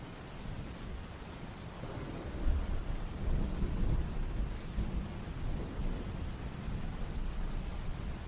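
Steady heavy rain falling during a thunderstorm, with a dense continuous hiss of drops and low rolling thunder rumbling underneath, no voices present.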